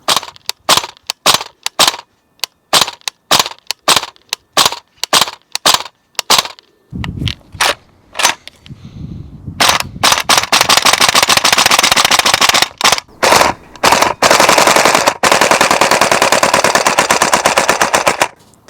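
A VFC AK74M gas blowback airsoft rifle fires loud, sharp clattering shots, first as spaced single shots, then as long rapid full-auto bursts with brief pauses, heard alone and close.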